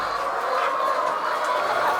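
Chickens on a farm, a steady dense flock murmur of clucking and fowl chatter filling the background continuously, moderately loud with no clear speech.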